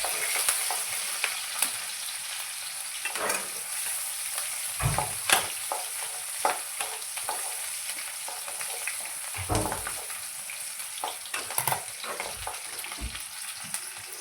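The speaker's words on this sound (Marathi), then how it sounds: "कढईमध्ये तेल घालून घेतलं आणि त्यामध्ये आता थोडासा कट करून घेतलं लसूण घालणार आहे आणि हिरवी मिरची" Garlic and finely cut green chili fry in hot oil in a wok, a steady close sizzle broken by scattered sharp clinks and scrapes of stirring.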